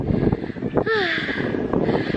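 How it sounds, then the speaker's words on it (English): Wind rushes across the microphone of a Canon G7X Mark II camera in soft, uneven gusts outdoors among plants, joined midway by a brief rising whine and a short burst of rustling. "as you can see, it's so windy here."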